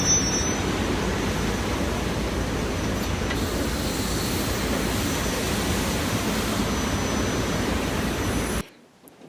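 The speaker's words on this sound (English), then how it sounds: "that was actually of me boarding the train, but it was on the second track" A passenger boards a train on the second track at a Philadelphia station, with a loud, continuous rumble of rail cars and machinery filling nearly nine seconds before cutting off abruptly; no one speaks.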